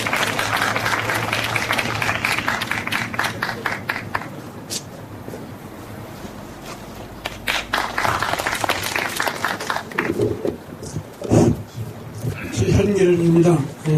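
An audience applauds at the 23rd Pyeonun Literary Award ceremony, welcoming a novelist to the stage. Dense, steady clapping fills the room for several seconds, then fades as a voice begins speaking.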